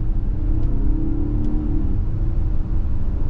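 A 2024 Nissan Pathfinder SL 4x4 with a V6 engine accelerates on the road, a steady, smooth mid-range engine hum with a brief rising pull, heard from inside the vehicle without speech.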